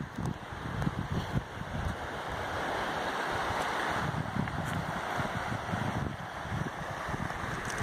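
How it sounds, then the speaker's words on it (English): Creek water rushing outdoors on a hot day at a gold panning spot, a continuous broad roar of flowing water mixed with wind buffeting the microphone. "Here's the creek."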